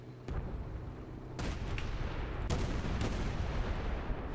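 Sharp booming shots from tank guns in a combat video game, several loud cracks spaced irregularly over a continuous low rumble.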